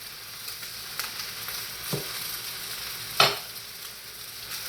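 Steak sizzling in a pan, a constant broad hiss of frying with a couple of faint scrapes and one sharper clank, close and steady with no one talking.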